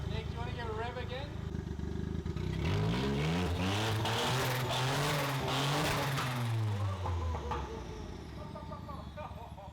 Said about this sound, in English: do you want to give a rev again?